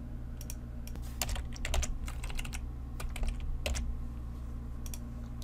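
Keystrokes on a computer keyboard while writing Excel VBA code, a quick irregular patter of close, crisp clicks in short bursts over a steady low hum.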